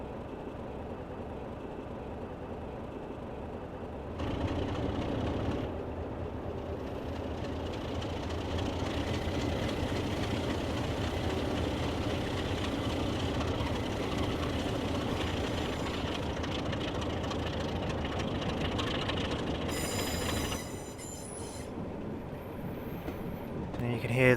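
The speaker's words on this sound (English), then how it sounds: "you can hear those lovely Sulzer engine sounds very clear within the window hang camera" Diesel engine of a green BR Class 33 locomotive with Sulzer engine in Train Simulator Classic, heard from a window camera: a steady, loud mechanical drone with rail clatter, rising in power midway, with a faint voice over it.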